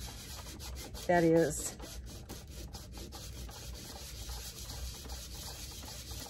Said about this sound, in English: And so I am going to take a nail file.